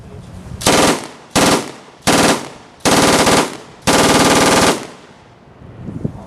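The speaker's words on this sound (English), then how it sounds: "Very different sound on the battlefield. That's the German MG42." A German MG42 machine gun fires at a WW2 reenactment display in five very fast, tearing bursts, each a continuous ripping roar, loud and near, separated by short pauses, with no voices over it.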